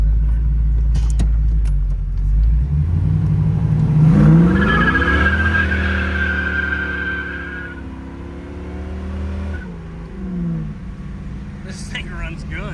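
A 1986 Chevrolet Monte Carlo SS with a 350 V8 idles, then climbs through a rising rev and a held higher note before settling back, heard fairly close with some background noise.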